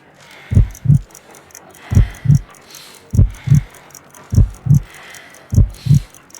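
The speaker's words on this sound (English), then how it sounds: "I need to concentrate and count the heartbeats." A slow, steady heartbeat in Sherlock Holmes Crimes and Punishments, heard while a pulse is being counted: five evenly spaced double thumps, loud and close, over a faint hum.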